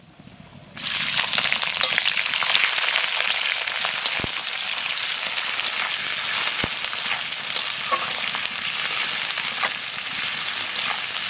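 Chopped onions hit hot oil with whole garam masala and a pinch of sugar, bursting into a loud, dense, continuous sizzle close by, with a couple of faint clicks of a utensil.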